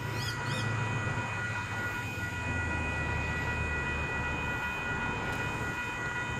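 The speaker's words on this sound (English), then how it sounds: "we should have rather unusual train about to pass platform number 1 in the form" A K set passenger train passes a station platform at Koolewong with a steady, continuous rumble and a faint high squeal or hum, heard from the platform at moderate distance with no talking.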